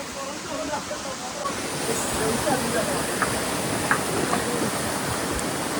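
Water rushing at Wadi Diftah in the UAE makes a steady, full hiss that fills the whole stretch without a break. Faint wind noise blends into it.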